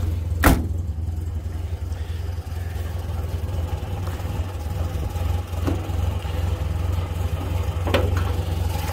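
A classic car engine idles steadily at a low, even rumble, fairly quiet and close, after a brief sharp start-up burst, with faint clicks and background noise and no speech.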